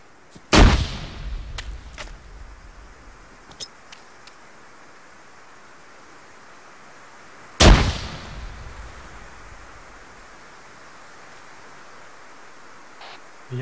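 Gunfire in the video game ARMA 3: two sharp, loud shots land several seconds apart, each with a rolling echo that fades slowly, over a faint background hiss with a few soft clicks.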